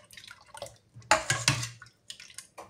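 Banana and sugar juice trickles and splashes into bottles in short, uneven bursts of pouring, close and fairly quiet, with brief pauses between fills.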